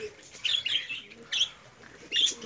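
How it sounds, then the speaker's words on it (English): Several caged pet birds of mixed sizes, colors and breeds chirp in short, bright bursts, with fluttery movement between calls; the tweets come in three clusters, moderately close, with no talking over them. "how these birds are flying all over the cage"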